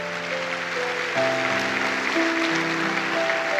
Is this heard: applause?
yes